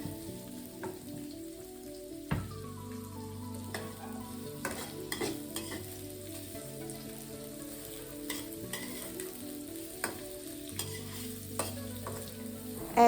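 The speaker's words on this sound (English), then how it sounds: "Now add in the sliced onions. Saute it for a few minutes or until it turns translucent." Sliced onions sauté in a pan with cinnamon and cloves, a steady soft sizzle with occasional clinks and stirring scrapes throughout, close and moderately quiet.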